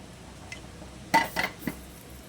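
A spoon stirring okra into tuna tinola soup in a metal pot, giving a few sharp clinks and scrapes, with one brief tap before a quick cluster of louder knocks.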